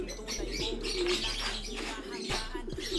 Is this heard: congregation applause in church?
no